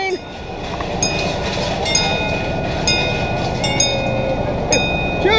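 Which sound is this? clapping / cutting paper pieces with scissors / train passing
train passing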